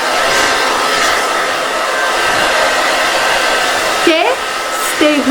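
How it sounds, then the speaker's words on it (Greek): A handheld electric hair dryer blows with a loud, steady whoosh that runs throughout, with a brief voice and a few rising tonal sounds near the end. "Το βάζω στην πρίζα, ανοίγω το κουμπί"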